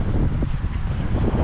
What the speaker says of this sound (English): don't know if the mic's gonna pick it up with all this wind noise